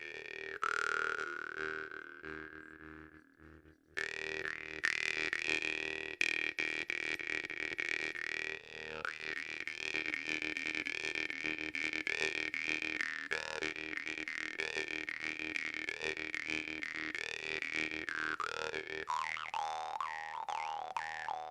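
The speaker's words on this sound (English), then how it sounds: "Oh, very, very trippy, very trance-like bass tones." Trippy, trance-like tonal bass sounds from a pitched instrument, with sustained gliding tones over a steady pulsing low layer, loud and continuous for the whole stretch, no talking.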